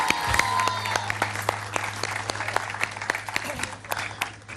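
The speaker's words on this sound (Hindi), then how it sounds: "नाज़रीन के लिए, बहुत सारी तालियां" Studio audience applause on a Pakistani morning TV show, a dense run of claps over a steady low hum that lasts the whole stretch.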